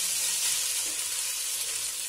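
Boiled rice slid into hot oil in a pan on the stove while making Hyderabadi chicken biryani, giving a steady, bright sizzle that holds loud and close throughout with no talk.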